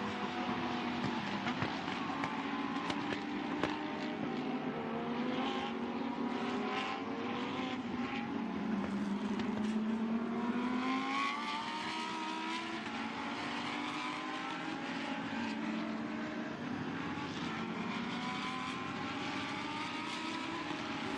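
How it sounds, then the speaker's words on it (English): Lamborghini Super Trofeo race cars accelerating around the Shanghai circuit, a continuous loud engine roar with rising pitch sweeps as the cars climb through the gears, steady throughout. "accelerating his way now for the 22nd time up towards the completion of the lap"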